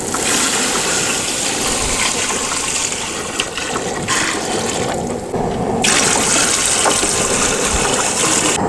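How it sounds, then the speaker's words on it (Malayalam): Water pours steadily into a cooking pot of fried onions, cinnamon, cardamom and ginger-garlic paste for chicken kuzhimandhi, a continuous close gushing splash that runs unbroken for several seconds, with no voices. "വെള്ളം ഒഴിക്കാം."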